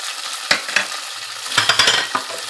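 Spices for chicken karahi sizzle and crackle in hot oil as a tadka, with scattered pops and stirring scrapes, close and fairly loud, no voices.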